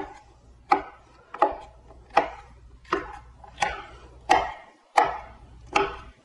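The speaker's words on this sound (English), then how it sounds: "now we're just going to mince it" A knife slices through a bell pepper into matchsticks on a cutting board, about eight crisp, evenly spaced chops with short pauses between, close and clear with no talk.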